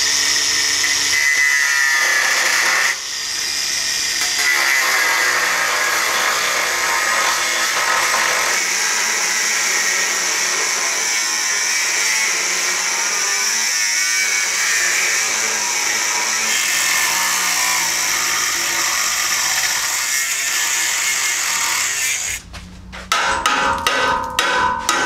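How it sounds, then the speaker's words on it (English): A cutoff wheel grinds through a steel bracket on a 1978 Jeep J10 during a lift install, making a loud, steady, high-pitched whine that holds for over twenty seconds before dropping away into a few short clattering bursts. "get a cutoff wheel,"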